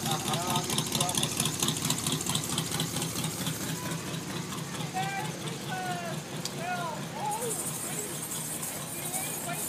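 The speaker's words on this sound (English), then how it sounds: "Give us a rev!" At a Christmas parade, a vehicle engine rumbles and idles nearby, with the crowd's voices and cheering mixed in over it.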